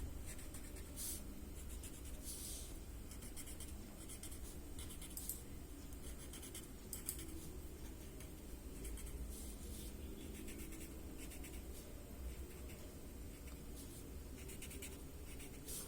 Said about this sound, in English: work all of these color from the graphite onto the fibers of the paper here.